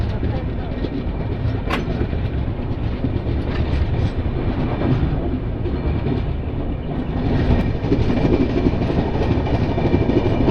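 Tirumala Express 18522, on its Guntakal to Visakhapatnam run, rolls onward just after leaving Annavaram station, giving a loud, continuous rumble from inside the train with a steady rattling clatter of wheels and carriage throughout.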